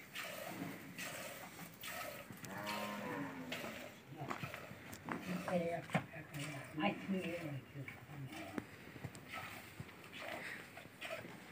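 Cows low during milking time at a farm, drawn-out calls rising out of a steady murmur of nearby voices and shuffling.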